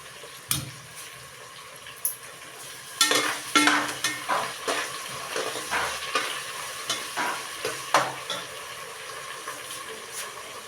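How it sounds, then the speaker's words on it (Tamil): Tomatoes with rock salt sauté in a pan, with scattered scrapes and clacks from stirring over a faint, steady sizzle, close and fairly quiet. "அப்போ தான் வந்து நல்லா வதங்கி வரும் தக்காளி."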